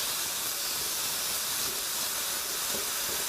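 Garlic added to a pan with mince sizzles steadily, a loud, even hiss that carries unchanged from start to finish with no other sounds over it.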